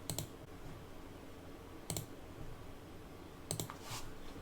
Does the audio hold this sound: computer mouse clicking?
yes